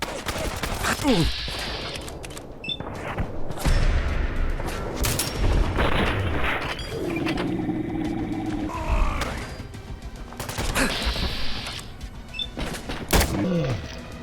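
Gunfire in the video game Fallout London, with dense bursts of shots, mechanical clatter and impacts at close range through most of the clip, alongside grunts and game sound effects.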